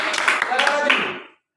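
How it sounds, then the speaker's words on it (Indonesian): A classroom audience of schoolchildren breaks into a short burst of clapping, a dense patter that fades out after about a second, with voices mixed in. "tepuk tangan ya"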